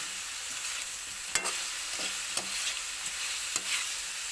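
Kiwid cooking in a pan on a gas stove for adobo: a continuous soft sizzle with several sharp scraping stirs of a utensil against the pan, close and fairly quiet, with no talking.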